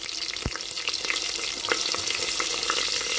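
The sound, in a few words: green chillies and onion frying with bay leaves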